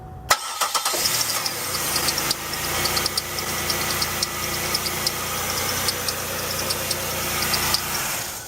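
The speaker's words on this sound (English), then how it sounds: "I mean, we could turn the car on and find out." A Chevrolet Impala engine cranks and catches with a loud burst, then settles into a steady, slightly ticking idle that runs on alone, close by.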